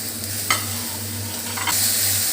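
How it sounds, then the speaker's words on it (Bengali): Chopped tomato and large green chilies are stirred in a hot pan for chickpea ghugni: a low, steady frying sizzle with a faint hum underneath and a couple of brief scraping strokes of the spoon, heard close with no speech. "সবটা এর মধ্যে এবার মিশিয়ে দিলাম। ভালো করে নেড়ে চেড়ে নিতে হবে যতক্ষণ না টমেটোটা মজে যাচ্ছে।"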